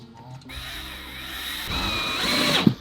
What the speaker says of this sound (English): That one needed me to drill in just a little bit.